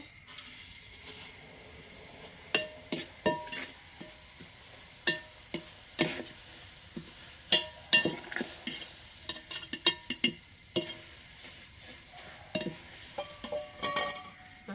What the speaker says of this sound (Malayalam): അപ്പോൾ ഈ എണ്ണയിൽ തന്നെ ഇനി ഞാൻ അവിലൊന്ന് വറുത്തെടുക്കുകയാണ്.